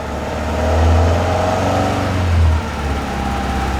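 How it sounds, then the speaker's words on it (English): A sailboat's inboard engine, newly overhauled, revs at full throttle in a tight spot aboard the 30-foot boat, a loud throbbing drone that swells twice and then settles back. "That's full rev, baby."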